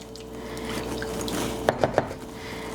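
A spoon stirs beans into a pot of white chicken chili, giving soft wet squelches under a steady background hum, then three distinct clinks close together near the end.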